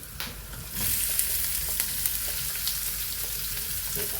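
Whole spices dropped into hot oil in a pan for an egg masala curry burst into a loud, dense sizzle that starts abruptly and keeps crackling steadily, with light stirring.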